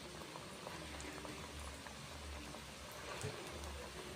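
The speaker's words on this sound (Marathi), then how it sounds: "मध्यम गॅसवर आपल्याला त्या मठरी तळून घ्यायचे" Mathri fry in moderately hot oil over medium heat, a soft, even bubbling and fizzing that stays faint and continuous with a few small pops.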